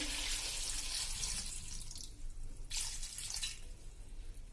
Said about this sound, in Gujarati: ડૂબડૂબું પાણી નાખી દેશું,